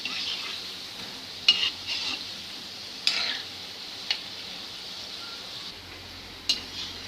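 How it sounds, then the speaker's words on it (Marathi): Gulab jamun balls made from an instant mix fry gently in oil over low heat, giving a faint, thin continuous sizzle broken by a few soft ticks and clinks, quiet and with no speech. "हे कमी गॅसवर आपण लालसर होईपर्यंत तळून घ्यायचं।"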